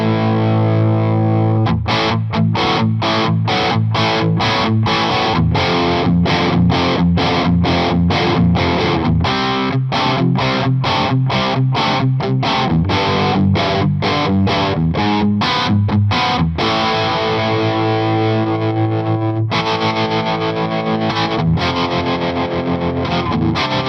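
Distorted electric guitar played through a Mesa Boogie Dual Rectifier Tremoverb amp on channel 2 in blues mode, with dense chopped chords and a short pause near the end, loud and steady with no talking.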